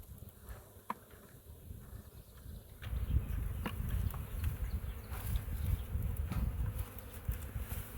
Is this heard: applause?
no